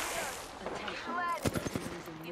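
Rapid bursts of Apex Legends gunfire crackle amid electronic effects, several sharp shots clustered together at moderate volume.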